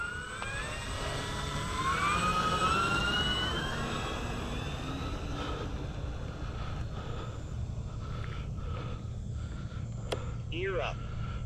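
An FMS F7F Tigercat RC model plane revs up with rising whining engine tones that level into a steady drone as it takes off, close at first and then farther away, with a voice speaking over it.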